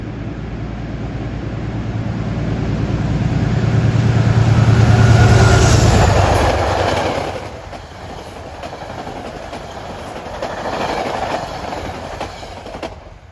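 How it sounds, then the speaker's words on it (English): Metro-North train 853, a nonstop run from Grand Central to Beacon, passes at Riverdale with a loud, close roar and clatter of rail cars that swells, peaks, then drops to a quieter lingering rumble. "coming now at 5:53 is a real hot shot. Train 853 goes nonstop from Grand Central to Beacon"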